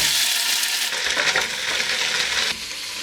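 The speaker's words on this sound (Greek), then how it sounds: "Μόλις κάψει το λάδι θα προσθέσουμε μέσα τη σηκωταριά." Lamb liver sizzles hard in hot olive oil and butter in a pot, giving a loud, steady crackling hiss. Clinks and stirring sounds break through now and then, and no one speaks.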